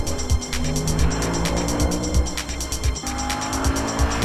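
An Audi RS4 with 414 horsepower accelerating hard, engine roaring loud and close with squealing tyres and quick shifts, steady and forceful throughout.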